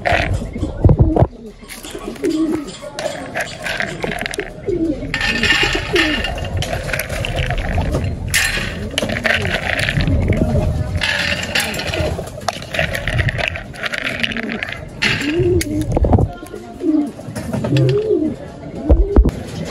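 Racing pigeons in a loft coo in repeated soft, throaty rolls, close by and fairly loud, with a brief clatter near the start and someone talking over parts of it.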